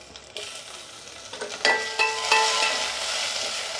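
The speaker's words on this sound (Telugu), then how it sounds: "టమాటాలు వేసుకోవాలి." Tomatoes frying in a pan with spices such as cloves and chilies, stirred with scrapes and clacks over a steady close sizzle that grows louder partway through.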